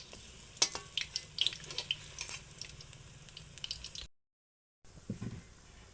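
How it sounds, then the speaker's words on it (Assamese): Banana and flour pitha batter fries in hot oil with a steady crackling sizzle and scattered sharp pops, then a brief silence and a short quieter burst of frying. "এইখিনি এতিয়া মই অলপ ৰঙা হোৱালৈকে ভাজি ল'ম।"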